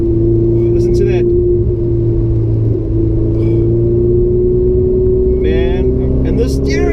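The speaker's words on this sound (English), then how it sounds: "you can't hear me over the sound of this glorious, glorious engine" A loud, steady Ferrari 488 engine drone with a deep rumble fills the whole clip on a track, rising slightly in pitch, while a voice talks faintly underneath.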